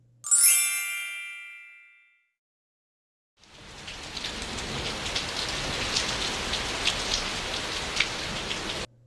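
Rain sound effect in a children's storybook reading: a bright chime rings out and fades, then after a brief silence a steady patter of falling rain comes in, moderately loud.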